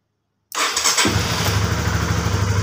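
Half a second of silence, then a Honda CB150R motorcycle engine cranks and catches, settling at once into a steady, close idle.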